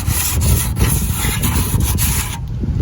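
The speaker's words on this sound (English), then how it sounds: "I'm going to sand all the edges down a little bit." Steady hand sanding along the cut edges of a piece on a bus being prepared for a trip, a continuous scratchy back-and-forth rubbing that runs close and loud throughout with no pauses.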